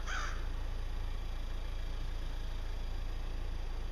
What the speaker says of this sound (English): We got a crow up in that tree